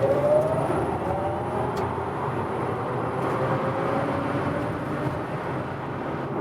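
A Tesla Model X 100D accelerates hard on the Autobahn, a loud, steady wash of road and wind roar heard from inside the cabin, with a faint rising electric whine early on.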